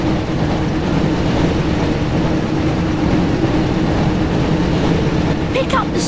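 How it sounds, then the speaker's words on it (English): Hogwarts Express from the PS1 Harry Potter and the Chamber of Secrets game, heard as a steady, loud rumbling roar of a train running through a tunnel, unbroken throughout with a brief higher whoosh near the end. "Looks like we found the train"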